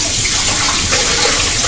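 A tap runs in a steady, loud, close rush of water that stays unbroken from start to finish.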